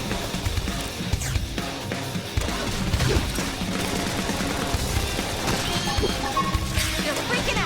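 Battle gunfire in the Xenoblade Chronicles X video game rattles in dense, rapid bursts mixed with impacts and crashes, continuous and fairly loud throughout.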